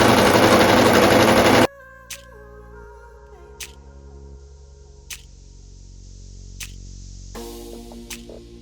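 A sewing machine stitches a skirt seam in a short, loud burst of rapid stitching, then stops. After that come quiet pauses broken by a few sharp mechanical clicks.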